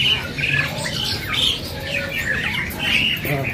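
Jalak duren and jalak putih starlings at a bird-selling kiosk give harsh, repeated squawking calls with short chirps, close and fairly loud against a busy background with no talk.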